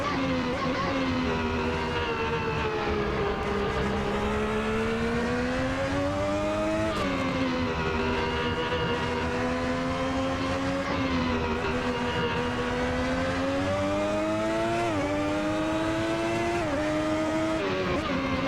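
A high-pitched 3.5-liter V12 Ferrari 641 racing engine screams at about 13,500 RPM in a video game, pitch rising and dipping slightly with gear changes, loud and continuous throughout.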